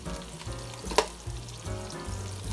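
Cauliflower fried rice with frozen peas sizzles steadily in a hot pan, a continuous close frying hiss with one brief utensil clatter partway through and a low musical hum underneath; no one speaks.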